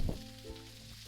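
Vegetables, including carrots, sizzle and crackle in a hot pan, a steady close frying hiss with a brief louder burst at the start.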